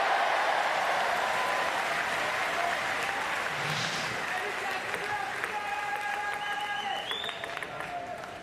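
A French crowd at a Paralympic standing table tennis singles semi-final applauds steadily through the whole stretch, a dense wash of clapping and cheering with a few sustained whistles toward the end.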